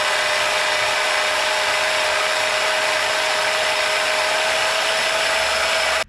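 Harbor Freight band saw cutting PVC pipe on a dual stand, a loud steady motor whine with a constant tone throughout, close and alone, stopping abruptly at the end.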